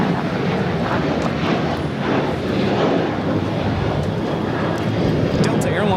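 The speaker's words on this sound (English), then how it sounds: "Delta Airlines 2120 taking off to Las Vegas on the 737-800" A Delta Boeing 737-800 airliner takes off at Los Angeles airport, its jet engines roaring loud and steady under continuous talk.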